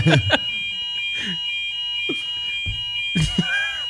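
A smoke alarm set off by burnt toast sounds in a home, a steady piercing high-pitched electronic tone running throughout while people talk and exclaim over it in bursts.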